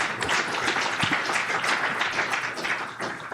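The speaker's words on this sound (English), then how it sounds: "There's an attempt at applause" Audience applause after a talk on U.S. tight oil and shale gas, a steady, moderately loud patter of clapping from a room of listeners that carries on alone for a few seconds without speech.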